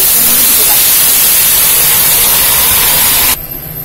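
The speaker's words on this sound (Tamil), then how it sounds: "இப்ப வந்து இந்த கரைச்சு வச்சிருக்க வெள்ளத்தை நம்ம ஊத்திக்கலாம்." Dissolved jaggery syrup pours into a hot pan, a loud, steady rushing hiss that cuts off abruptly near the end, leaving a quieter background.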